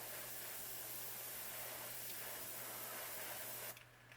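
Paint hisses from a spray airbrush as another coat goes onto a bluegill-pattern crankbait lure, a steady close spray lasting nearly four seconds before cutting off abruptly, with no talking.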